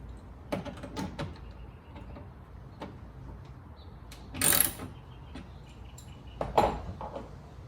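A door lock actuator being refitted inside the door of a 2015 Lexus GX460, heard as a string of sharp metallic clicks and clunks with small rattles and a louder scraping knock midway, all close and with no talk.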